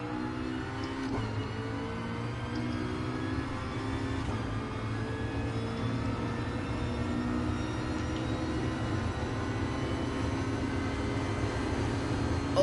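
A race car engine in a racing game, heard from cockpit view at Fuji Speedway, drones continuously at high revs, pushing past redline, moderately loud and steady with a faint buzzing texture.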